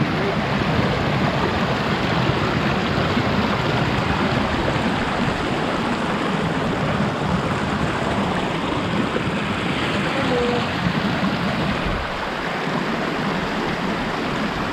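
A stream of water is waded across near Kondapalli Cheruvu in Narayanpet, a constant close rush of flowing water that stays loud and unbroken throughout, with no talking.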